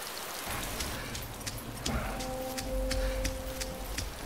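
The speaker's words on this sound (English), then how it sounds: "The rain effect isn't very good, is it?" Steady rain in the video game DayZ, a continuous even hiss with faint distant rumble and a sustained tonal drone entering partway through, no voices.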